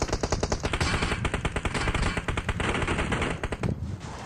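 Rapid automatic gunfire in a battle royale shooter game, loud dense bursts of machine-gun shots crackling continuously before tapering off near the end.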